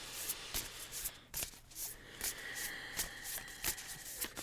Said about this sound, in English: I'm going to shuffle these cards and see how the universe wants to contribute to today's conversation.